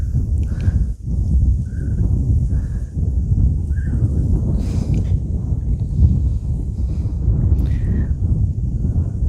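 Strong wind blows across open grassland near sugarcane fields, a loud, steady low roar buffeting the microphone without pause for the whole stretch.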